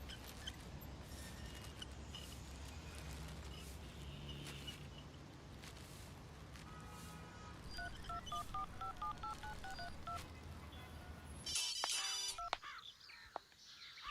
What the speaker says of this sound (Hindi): मैं माँ को फोन करके देखता हूँ।